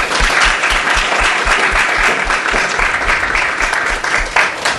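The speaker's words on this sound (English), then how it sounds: "A round of applause for our panelists" Loud, sustained applause from an audience for panelists at the close of a health talk panel discussion, many hands clapping evenly and continuously from start to finish.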